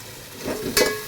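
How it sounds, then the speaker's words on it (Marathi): Onion browning in a pan for misal, a soft sizzle that builds as it is stirred, with a brief louder scrape near the end and no talk. "आपल्याला छान भाजून घ्यायचं कांदा"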